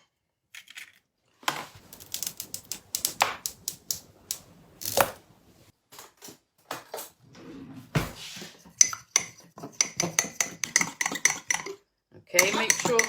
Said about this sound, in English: in a little cup, I'm going to stir the egg and the syrup together